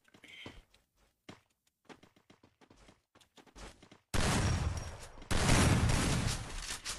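Shotgun fire in a multiplayer shooter game: sparse light taps and footsteps give way to two loud, sustained bursts of gunfire that dominate the second half.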